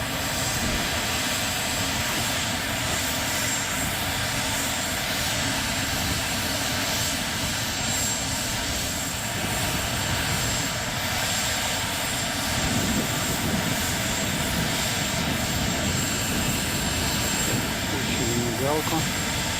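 The auxiliary power unit of a Mi-26 heavy helicopter runs with a steady, loud turbine whine and broadband roar, unbroken throughout, heard close up with people talking at times over it.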